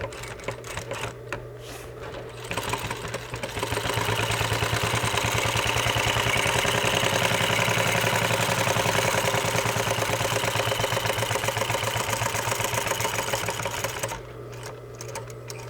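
A sewing machine runs steadily, stitching a seam with its edge riding against a stitch line; the close, even mechanical whir fills most of the stretch, with quieter handling sounds before and after.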